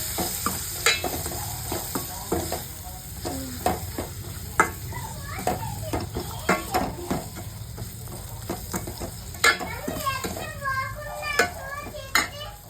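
Small chopped onion pieces frying lightly in a pan make a continuous sizzle, broken by frequent clattering stirs and utensil knocks, while children's voices chatter faintly in the background.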